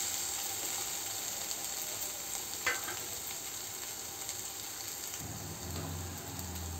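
Small crabs sizzle steadily in a little oil for a pepper crab curry, a dense crackling hiss broken by a brief scrape of stirring and a low clatter near the end.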